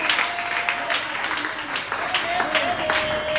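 A church congregation at a Sunday service claps steadily and loudly in a dense, continuous patter, with faint high trilling cries of joy mixed in and no clear speech over it.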